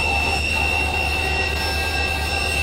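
Model train running on welded rail in the video game Rolling Line, a steady rolling rumble with sustained high wheel squeal and tonal whine, continuous and fairly loud throughout without talk.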